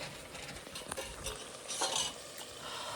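Spices with onion, garlic, ginger and chilies crackle and fry in hot oil with a constant hiss, punctuated by light spoon scrapes against the pan.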